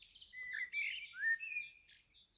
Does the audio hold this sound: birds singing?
yes